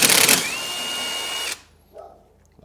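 Half-inch socket on a power driver busting loose a bolt on a golf cart kingpin bracket welded nut: a loud, steady whirring drive of about a second that stops abruptly, followed by faint handling noises.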